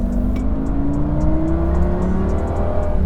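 A high-revving 5-litre naturally aspirated V10 in a Lamborghini Gallardo pulls up steadily in pitch, loud and close, with a smooth rising howl and faint clicks above.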